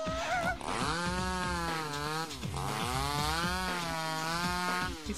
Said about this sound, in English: He's dancing with the chainsaw again!